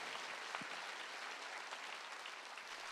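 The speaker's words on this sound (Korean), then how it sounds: "박수" Church congregation at a Wednesday worship service bursts into applause, a continuous, even roar of many hands clapping, heard faintly as if from a distance and with no voices over it.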